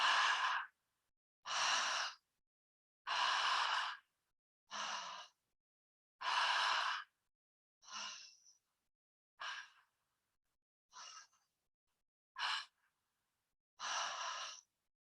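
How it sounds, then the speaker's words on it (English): Open-mouth breathing exercise: ten distinct breath sounds, alternating long airy exhales and shorter breaths at a steady rhythm, close and fairly soft, with silence between each and no talking. "you're going to be opening your mouth and breathing like this"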